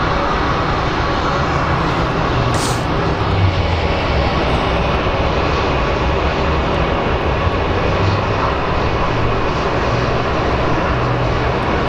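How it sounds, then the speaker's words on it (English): Steady, loud engine roar from a Delta airliner just landed from Mexico City at Phoenix Sky Harbor, a continuous broadband rumble with a low drone holding throughout and no talking. "And we have our Delta flight that just landed."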